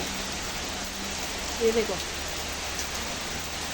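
Heavy rain pours down steadily in a wind-driven downpour, a dense continuous hiss on surfaces nearby, while someone speaks briefly under it.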